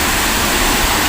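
Waterfall at a falls reached on foot, a steady dense roar of falling water filling the whole short stretch, close and loud with no breaks.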